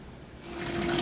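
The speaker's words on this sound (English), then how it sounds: "We'll make sure that water's just pumping out of this something fierce." Water gushes from a dishwasher drain line that was being checked for a clog, a steady rushing flow that swells louder toward the end of the short burst.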